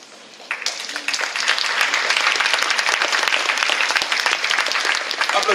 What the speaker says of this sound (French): Applaudis pour le plus bel effort